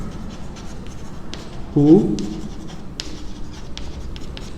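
Pen scratching across paper while working a sets math problem, soft continuous strokes under a brief spoken syllable, moderately close.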